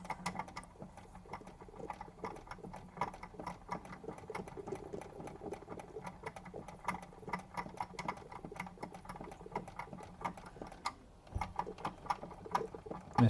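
A restored Wilesco D20 toy steam engine runs at a steady speed, a quick, even mechanical ticking and chuffing patter, close but fairly quiet, with no talk.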